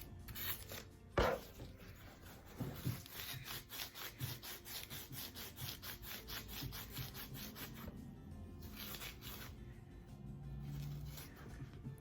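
Hand rubbing down a starter motor part from a Ducati 750S, an even, steady scraping stroke repeated in a close, quiet setting with one sharper knock early on.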